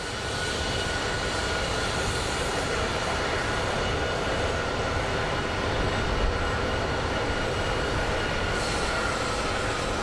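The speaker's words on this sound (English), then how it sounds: "Listen to those engines purr." Jet engines at Phoenix Sky Harbor International Airport produce a loud, steady, broadband roar that holds evenly throughout without pause, with no speech over it.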